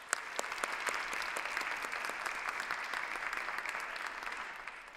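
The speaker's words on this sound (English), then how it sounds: "That deserves its own round of applause." Sustained audience applause fills a staff celebration event, dense even clapping from a sizeable crowd holding steady throughout without fading.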